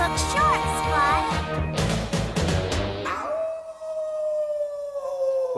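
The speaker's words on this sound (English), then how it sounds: "Teen Wolf gonna howl today" A werewolf lets out a long, steady howl in the 1980s Teen Wolf cartoon, rising out of a busy burst of music and voices and then ringing alone, loud and sustained.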